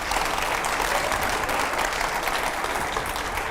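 Steady, loud applause from a crowd, dense clapping filling the whole stretch without pause.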